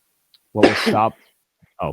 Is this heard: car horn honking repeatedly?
no